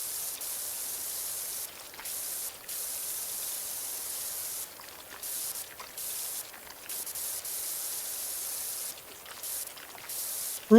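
A power washer in the Power Wash Simulator video game sprays a gnome fountain with a steady hiss, broken by several short pauses where the jet cuts out and restarts.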